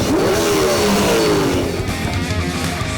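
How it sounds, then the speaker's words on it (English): A loud car engine revs hard and accelerates, its pitch sweeping upward then easing as it pulls away, close and roaring for about three seconds. "That's a really loud car."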